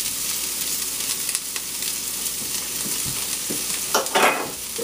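Garlic and peppers fry in a pan with a steady, close sizzle, broken by a few brief stirring scrapes and sharper hisses near the end.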